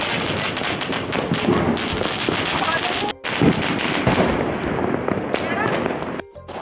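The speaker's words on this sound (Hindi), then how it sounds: "यहाँ पर हो रही थी सामने बहुत ही सुंदर आतिशबाजी" Diwali fireworks and firecrackers in Delhi burst in a loud, dense, continuous stream of cracks and booms, with one brief gap near the middle, close and overlapping throughout.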